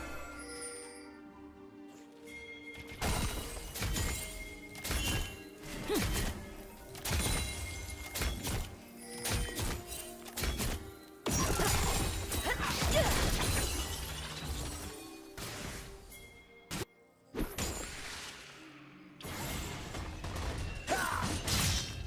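The shattering strike ability in League of Legends lands as a sharp shattering crash amid a busy stream of game impacts, whooshes and mechanical clanks, with repeated bursts spread across the stretch.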